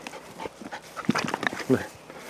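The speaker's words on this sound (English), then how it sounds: "Dog wants to play frisbee." A dog whimpers and whines in short, high yelps, eager to play frisbee on a cold, wet rural property, close to the microphone, with a voice briefly speaking nearby.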